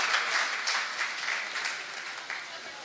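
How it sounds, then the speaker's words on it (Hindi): Audience applause at a mushaira and kavi sammelan poetry recital in Bareilly, a steady dense clapping from a crowd that holds at an even level throughout with no talk over it. "जोरदार तालियां"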